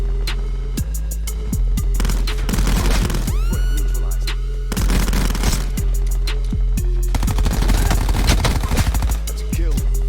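Rapid automatic gunfire in Call of Duty Black Ops 4, dense bursts of fast shots crackling loud and close over a steady game hum, with short pauses between volleys.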